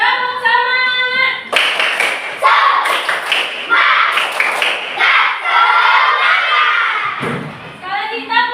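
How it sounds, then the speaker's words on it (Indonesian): A class of children does a rhythmic spirit clap, loud patterned bursts of clapping mixed with shouting, chanting voices, opening and closing with a sung adult voice. "Tepuk semangat!"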